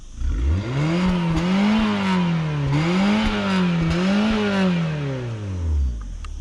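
A rented muscle car's engine revs up and down in three swelling waves, loud and close, on a dusty roadside with no talk.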